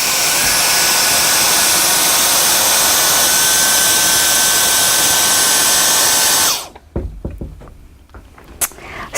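A Dyson DC44 cordless stick vacuum runs with a loud, steady high-pitched whine and airflow rush, then switches off abruptly, leaving a few light knocks and handling sounds.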